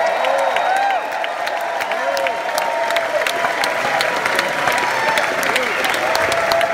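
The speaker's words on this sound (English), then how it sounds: "give yourselves a huge cheer because you've been absolutely great tonight" A large concert audience at a Beatles tribute show applauds and cheers loudly and steadily, dense clapping with scattered whoops rising over the crowd throughout.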